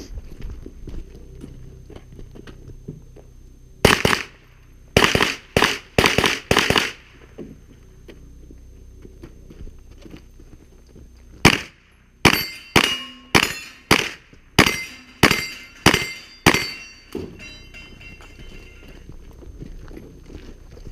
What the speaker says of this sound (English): both me and Micah had to reshoot our second time with the pistol caliber carbines